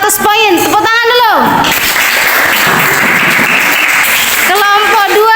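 An eighth-grade class bursts into loud, dense clapping during a quiz competition, with a voice speaking over it before and after the applause.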